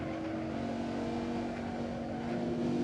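Audi R8 V10 Plus engine accelerating at Spa Francorchamps, a sustained high droning V10 note climbing slightly in pitch as the throttle opens, loud and steady from inside the car.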